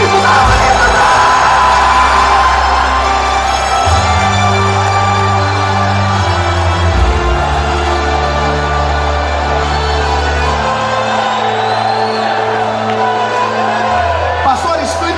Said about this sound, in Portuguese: quem crê nisso dá um grito